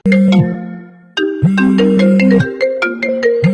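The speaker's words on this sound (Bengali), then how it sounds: "একসাথেই ফোন আসছে" A phone ringtone plays loudly, a repeating electronic melody with sustained tones that stops and then rings again after a short pause, with no talk over it.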